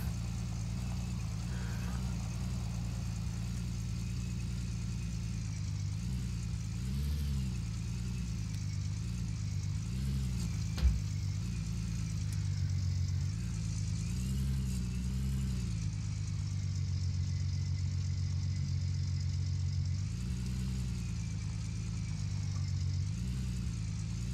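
A truck in Gold Rush The Game pulls away with a steady low engine rumble, holding an even idle-like drone throughout with slight swells in revs and one brief click midway.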